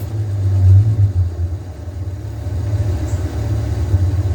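Low, steady rumble of a 1964 Pontiac LeMans engine idling slightly low, close and continuous with a faint uneven pulse, no talk over it.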